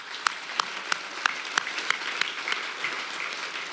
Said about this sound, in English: How about we give the Lord a big hand clap?